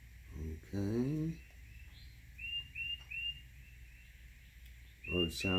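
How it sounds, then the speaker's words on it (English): Birds chirp and whistle in a garden, with repeated short high calls spread through the clip, faint to moderate, between bursts of nearby speech. "Birds sound good today."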